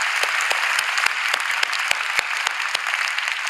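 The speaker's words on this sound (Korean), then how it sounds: "그런 분들 위해서 한번 박수하겠습니다" Congregation at a Korean church New Year's Eve service applauding steadily, a dense wash of many hands clapping with a few sharper individual claps standing out, sustained and fairly loud throughout.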